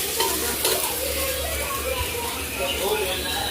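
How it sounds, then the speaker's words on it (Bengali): Onions sizzle and crackle steadily in a hot pan, a continuous close frying hiss with faint scraping as they are stirred, cooked for a home-style pulao or biryani. "এখানে পেঁয়াজ ভাজা হচ্ছে"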